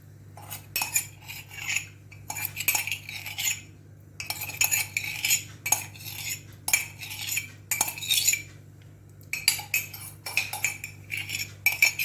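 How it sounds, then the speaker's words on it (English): A spoon stirs ragi mix into boiling vegetable soup in a pan, giving repeated scraping and clinking strokes in uneven bursts with short pauses, over a steady low hum. "I will add ragi mix to the vegetable with continuous stirring"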